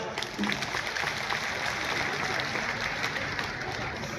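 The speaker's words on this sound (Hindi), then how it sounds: "एक बार आयोजकों के लिए, स्वाभिमान मंच के लिए जोरदार तालियां हो जाए।" Crowd at an outdoor Maharana Pratap Jayanti celebration in Saha clapping steadily, a dense, even wash of applause lasting throughout with a faint voice underneath.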